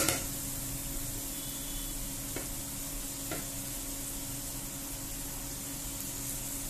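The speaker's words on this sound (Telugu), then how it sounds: "ఇప్పుడు దీనిలోకి బీరకాయ ముక్కలు వేసుకుందాము" Ridge gourd pieces and onions frying in a pan, giving a steady, even sizzle with a couple of faint stirring taps. It is quiet and constant throughout, with no voices.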